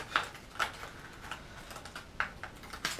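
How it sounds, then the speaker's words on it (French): A plastic fishing lure box for trout lures is worked open, giving a handful of sharp plastic clicks and snaps spaced unevenly over a few seconds, close and fairly crisp. "Si j'arrive à ouvrir la boîte."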